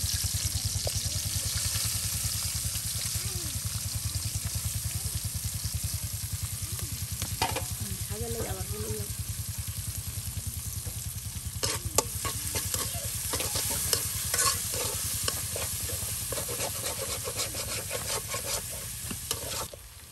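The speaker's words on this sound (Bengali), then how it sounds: "এই যে এখন আপনার তেল গরম করে নেওয়া হয়েছে আর এখন পেঁয়াজ মরিচ কুচি সব একসাথে দিয়ে দেওয়া হচ্ছে" Chopped onion and green chilies fry in hot oil over a clay stove, crackling and sizzling steadily while a utensil scrapes and stirs in bursts, close and continuous with no voices.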